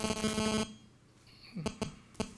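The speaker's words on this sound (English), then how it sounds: "It's probably the phone." A phone buzzing and ringing during a medical talk: a harsh buzzing tone for about half a second, quiet, then a few short sharp electronic beeps, all fairly faint with no talking.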